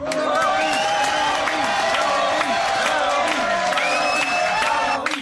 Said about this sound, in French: Alors, applaudissements pour Charles-Henri.